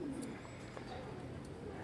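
Pigeons of the same breed coo softly in a brief, faint burst, with a voice murmuring nearby.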